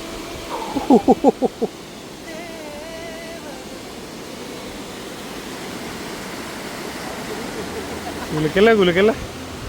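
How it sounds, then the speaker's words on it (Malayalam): A steady, rushing roar of a waterfall in a gorge in Scotland, heard from a bridge, with brief voices cutting in near the start and again at the end. "മലയിടുക്കിനുള്ളിൽ സ്ഥിതി ചെയ്യുന്ന മനോഹരമായ വെള്ളച്ചാട്ടമാണ് നീസർ"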